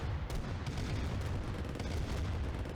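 Tank battle in the real-time strategy game Command & Conquer: Red Alert Remastered, with a dense, continuous rumble of cannon fire and explosions that stays fairly quiet and steady throughout.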